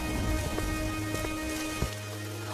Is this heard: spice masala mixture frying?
no